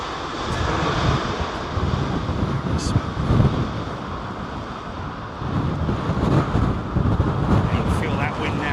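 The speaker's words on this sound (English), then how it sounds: "Feel that wind now." Strong storm wind buffets a microphone in a hotel parking lot beside Heathrow airport during Storm Isha, a loud, continuous roar with gusty surges, while a distant aircraft engine drone hangs underneath.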